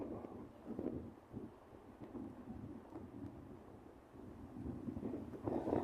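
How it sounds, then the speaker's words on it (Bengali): Strong gusty wind roars across open rural land in Bangladesh at the start of the monsoon as a storm builds, heard as a low, rumbling buffet against the microphone that rises and falls. "যে পরিমাণে বাতাস, প্রচুর বাতাস হচ্ছে।"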